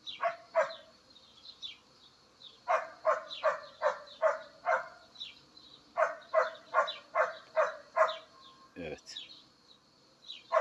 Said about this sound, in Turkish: doğanın ortasında olduğumuz için köpek sesleri falan da geliyor